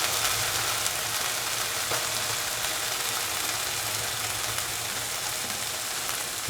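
A ground onion, shallot and cashew paste frying in a pan for a cottage cheese stew, giving a steady, dense sizzle that holds at an even level throughout with no breaks and no voices.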